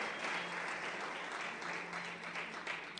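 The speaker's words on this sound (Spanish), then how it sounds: "Can someone give the Lord a round of applause?" A church congregation claps together in a sustained round of applause during a bilingual service, a continuous dense patter of many hands at steady volume with no speech over it.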